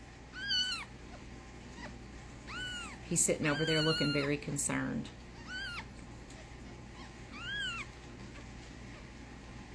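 Several high, rising-falling kitten meows spaced through the clip, with a burst of louder overlapping cries in the middle and someone talking quietly underneath.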